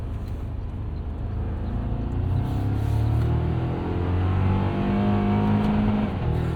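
A 2024 Toyota Tacoma SR5 pickup accelerating in manual shift mode, its engine rumbling steadily from inside the cab with a tone that climbs through the gears, loud and continuous with no talking.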